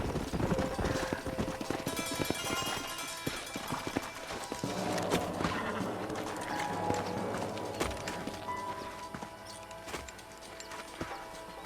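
Horses' hooves clip-clop steadily in the Red Dead Redemption western video game, a dense rhythmic patter of several animals under game music and ambience, with the occasional whinny.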